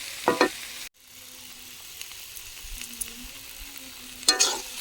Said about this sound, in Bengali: একটু আবারও ভালোভাবে মিশিয়ে দেব